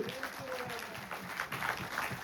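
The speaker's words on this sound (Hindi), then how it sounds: "एक बार जोरदार तालियां उनके लिए हो जानी चाहिए" Applause from a seminar audience on blockchain in Jaipur, a steady patter of clapping, fairly faint and distant, with a brief tone heard near the start.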